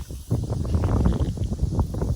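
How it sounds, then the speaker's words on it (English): Strong gusty wind buffets the microphone outdoors, a loud, rumbling low roar with uneven surges throughout, no voices over it. "even though it's crazy windy"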